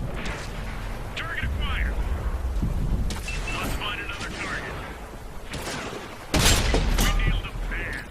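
Tank cannon shots in World of Tanks on Xbox, several heavy booms spread out, one especially loud near the end, over rumbling battle ambience with scattered sharper impacts.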